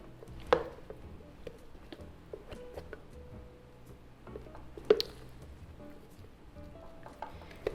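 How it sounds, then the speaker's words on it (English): Thick, fudgy vegan brownie batter spread into an 8x8 baking dish with a utensil, making soft, quiet squishing and scraping sounds with a couple of sharper taps on the dish. "So now we just want to put it in our pan."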